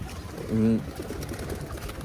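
A single short coo rises from racing pigeons in a loft, near and moderately loud, over a steady background of murmuring.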